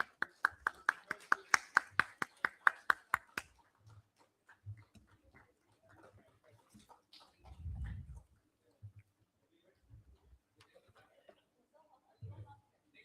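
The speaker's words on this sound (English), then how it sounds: "A big round of applause for our ladies here." Audience applauding women on stage at an HR leadership summit, a short burst of rhythmic clapping that stops after a few seconds, followed by scattered quieter sounds and low talk.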